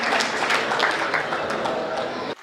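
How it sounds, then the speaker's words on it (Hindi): An audience in a Hindi comedy poetry gathering breaks into dense, loud applause for Hemant, claps crackling continuously before cutting off abruptly at the end. "एक बार जोरदार तालियां आप बजाए हेमंत की।"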